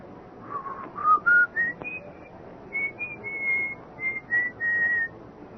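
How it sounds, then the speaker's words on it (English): Someone whistles an old tune in a radio drama, a short melodic phrase of rising and held notes, clear and fairly soft against a quiet background. "I heard it. The whistling. It was an old tune."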